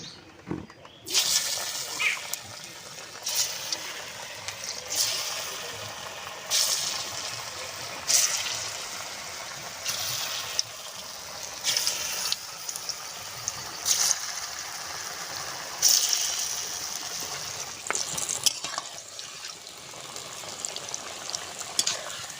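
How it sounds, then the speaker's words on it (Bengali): Jackfruit and gram-flour dhoka pieces fry in hot white oil in a wok, giving a steady hiss throughout, with louder bursts of crackle at intervals as pieces are added or turned. "তেলটা কড়াই দিয়ে দিয়েছিলাম, তেলটা গরম হয়ে গেছে, পিসগুলো আমি ভেজে নেব।"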